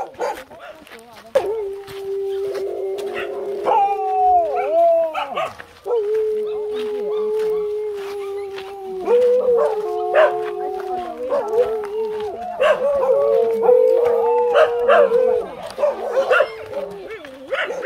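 Several dogs bark, whine and howl in long drawn-out wails in the dark before dawn on a hike up Mount Batur in Bali, loud and close, with people talking over them at times.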